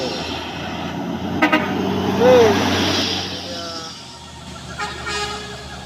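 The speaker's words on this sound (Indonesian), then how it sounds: "Sini ada truk tangki yang menuju arah Medan. Tangki CBO." A heavy tanker truck engine drones steadily as it climbs a steep uphill road, with a short horn toot partway through and passing traffic noise around it.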